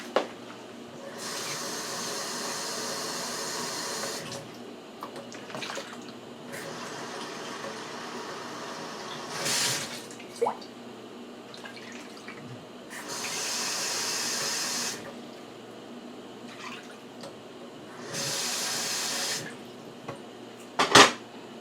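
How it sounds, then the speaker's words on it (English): Water poured into a container for cooking rice in a rice cooker, heard as several separate bursts of hissing, splashing flow, each lasting a few seconds with quiet gaps between, plus a faint clink near the end. "So I'm gonna put the water in this container here"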